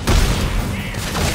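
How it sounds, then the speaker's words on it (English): Pistol gunfire in the sci-fi horror game Dead Space 3, a loud dense burst of shots and booms filling the clip, with a faint voice underneath. "Hate this goddamn pistol!"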